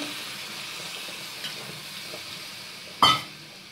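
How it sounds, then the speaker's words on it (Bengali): Sautéed potatoes and jackfruit sizzle softly in a pan until water is poured in, setting off a sudden loud hissing burst that quickly settles back down. "এবার আমি এতে পরিমাণ মতন জল দেব আলু আর এঁচোড়টা সেদ্ধ হওয়ার জন্য"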